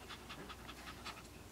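A Shih Tzu in labour pants rapidly and steadily, a fast rhythmic string of soft breathy huffs, close and faint, with no talking.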